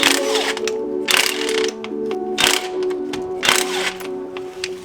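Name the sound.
ratchet cracking 12mm crank pulley bolts on Evo 4G63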